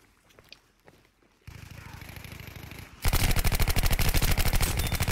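Submachine guns fire in a multiplayer first-person shooter match on a Lofoten Islands map, a rapid automatic burst starting midway and becoming loud, dense continuous fire near the end, with softer game ambience before.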